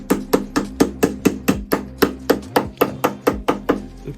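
A hammer taps end plugs into place on a Yamaha FZS 600 being turned into a cafe racer, a steady run of about eighteen sharp, evenly spaced knocks, close and loud with no talk.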